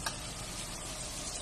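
Star margarine and dairy cream melting in a pan, a steady soft sizzle and crackle running without pause, close and even, with no voices.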